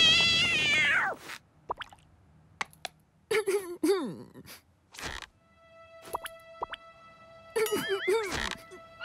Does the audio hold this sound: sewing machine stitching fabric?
no